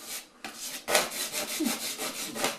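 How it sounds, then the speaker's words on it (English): Quick-drying five-minute wood filler compound being scraped off a kitchen repair with a scraper, a series of close, brisk rasping strokes repeating rhythmically with no talking. "Scrape it off, pack it back on."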